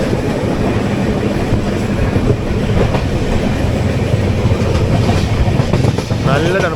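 The 16217 Mysuru-Shirdi Express rolls along the rails with a loud, steady rumble and rhythmic clickety-clack from the carriage wheels, heard from inside the train.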